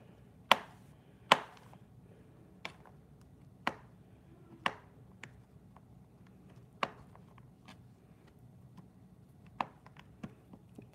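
A knife cutting a bar of Fels-Naptha laundry soap into small cubes, producing sparse, sharp, close taps and snaps spaced irregularly over near silence.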